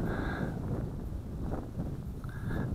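Wind blowing outdoors during a test flight of a JJRC JJ800 drone: a continuous close rumbling buffet across the microphone, with faint higher whining tones drifting in and out.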